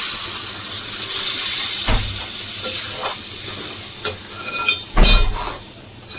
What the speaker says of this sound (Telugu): ఇప్పుడు ములక్కాయ ముక్క ఉడకడానికి ఒక 1/2 గ్లాస్ వాటర్ వేసుకుందాం